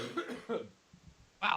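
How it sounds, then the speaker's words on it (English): A man coughs in a few quick harsh bursts, close to the microphone, with a short quiet gap and one more loud cough at the end. "I can't stop coughing."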